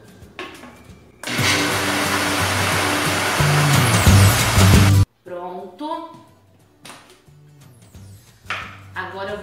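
A blender whirs loudly for about four seconds, beating pineapple-flavored gelatin dissolved in boiling water into a dessert mix, then cuts off abruptly, followed by someone talking.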